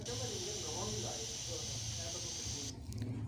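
A Tecno Spark 7 phone speaker with a fault plays its ringer as a harsh, distorted, crackling hiss. The sound runs steadily and loud for nearly three seconds, then cuts off abruptly.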